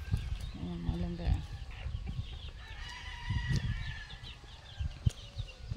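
Chickens and young chicks cluck and peep on a small farm, a mix of soft clucks and a distant crow-like call, while someone talks over them close by.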